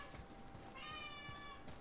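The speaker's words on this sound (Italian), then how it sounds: "C'è una gatta che miagola." A cat meows in the God of War video game, one drawn-out tonal meow in the middle over a steady background hum from the game.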